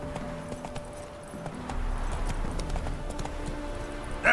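Roach, a horse in The Witcher 3, gallops with quick rhythmic hoof clops through the whole stretch, steady and fairly close, joined by a brief louder burst at the end.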